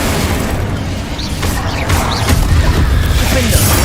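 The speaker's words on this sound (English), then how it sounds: "Incendio! Confringo! Bombarda! Confringo! Incendio!" Spell explosions in the video game Hogwarts Legacy: dense, loud booming blasts and crackling bursts over a rumbling game soundtrack, with a few brief whooshing spell effects.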